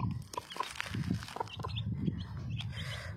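Hens and young chicks out in the open give soft, repeated clucks and thin, high peeps. The chatter is dense and continuous, with a flock heard at moderate distance.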